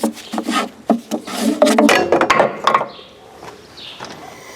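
Fitting on the fuel injection pump of a first-generation Dodge Cummins being unscrewed by hand, with a run of close metallic scraping, rasping and clicking turns, then quieter faint ticks toward the end.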